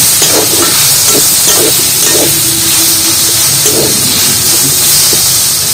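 Moringa leaves fry with mung dal in a pan, a loud continuous sizzling hiss with occasional stirring clatter close by.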